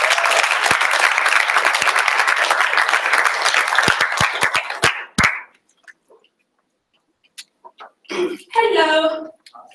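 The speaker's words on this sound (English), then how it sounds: "Can we please give them a round of applause?" Audience applause at a cultural showcase of East African dance by Mandela Washington Fellows, a dense sustained burst of clapping that fades out after about five seconds, followed by a pause and then a brief spoken voice.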